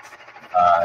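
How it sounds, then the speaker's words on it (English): An old embroidery machine starts up partway through, a loud steady mechanical rumble with a sustained whistling tone like a passing train, following quieter background noise. "I don't know why, but your machine sounds like a train."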